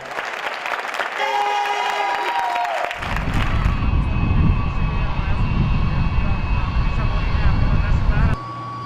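A Russian aircraft carrying medical supplies roars with a loud, steady jet-engine rumble, preceded by a brief tonal whine and crowd-like noise before the heavy engine sound takes over.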